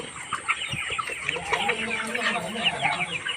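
Layer hens cluck in a steady, overlapping chorus, with busy chatter and short calls from several birds at close to moderate distance.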